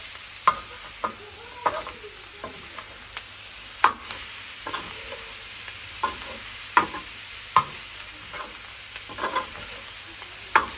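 A spoon stirring food in a metal frying pan, a dozen or so sharp scraping clicks at irregular intervals over a faint background sizzle, close and fairly quiet, with no voices.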